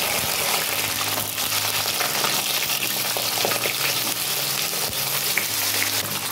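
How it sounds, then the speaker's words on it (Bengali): Cut potatoes fry in hot oil in a pan, a loud, continuous sizzle and bubbling hiss with low rumble and occasional stirring knocks, close and steady throughout. "তো আমি এখনও প্রথমে আলুটা ভেজে নেব।"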